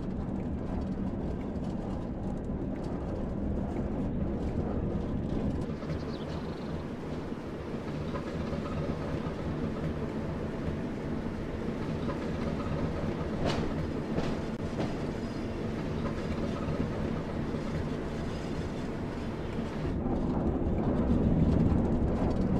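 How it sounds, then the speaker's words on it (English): A BR Class 08 diesel shunter in Train Sim World on the Tees Valley Line rumbles steadily as it moves, with rail clicks and a few sharp knocks. The sound swells louder near the end. "With the train now moving, it's possible to apply more power and focus on achieving a desired speed."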